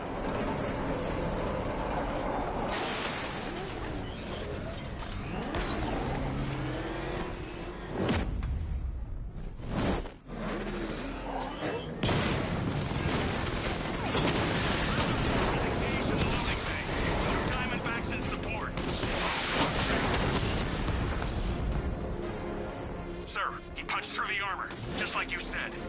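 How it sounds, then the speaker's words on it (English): Tank cannon blasts and explosions in the Batman Arkham Knight video game, a 60mm cannon firing at heavily armored units, loud dense bursts and cracks under game dialogue and music throughout. "Your 60mm cannon will penetrate these heavily armored units, but it'll take a few direct hits to destroy them."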